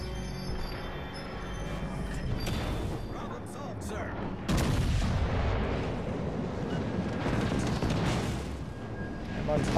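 Battleship Nelson's main guns in World of Warships: Legends, heavy naval gunfire booming amid dense continuous battle noise, with a loud blast near the middle, while someone talks excitedly over it.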